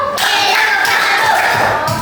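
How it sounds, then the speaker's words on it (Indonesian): A school class claps their hands together in a classroom, a dense, loud burst of many hands close by that runs steadily for about two seconds, with no talk over it. "Mana semangatmu? Mana tepuk tanganmu?"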